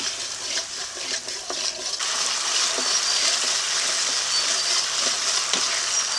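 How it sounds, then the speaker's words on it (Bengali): A spice paste with tomato paste fries in a pan for a Bengali fish curry, producing a steady wet sizzle with stirring scrapes and soft clinks, busier clatter early on, then an even frying hiss. "এখন দিয়ে দেবো টমেটো পেস্ট এখন মশলাটাকে ভালো করে কষিয়ে নেব"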